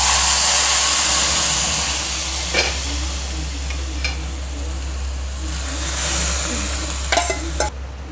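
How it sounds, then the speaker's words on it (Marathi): Brinjal drops into hot garlic tempering in a pan and sizzles loudly at first, the hiss easing over several seconds while a few sharp clinks of a utensil against the pan punctuate it. "त्यात टाकून घेऊ वांगे."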